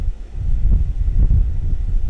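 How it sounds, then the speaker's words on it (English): Low, blustery wind buffets the microphone in uneven gusts, a muffled rumble with no voices. "it's pretty windy as well"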